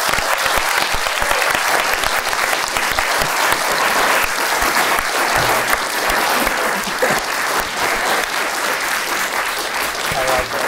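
A large audience at a live gaming event applauds loudly and continuously for about ten seconds, a dense wash of clapping with some cheering mixed in.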